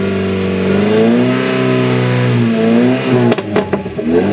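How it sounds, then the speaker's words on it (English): A Toyota 4x4 pickup's exhaust with an oversized muffler, heard from outside, revs loudly with a throaty, rising and falling drone, ending in a few sharp blips as the throttle drops. "And outside, it sounds a little more throaty."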